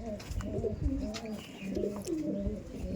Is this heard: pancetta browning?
no